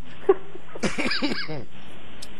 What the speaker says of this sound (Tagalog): ubo na naman ako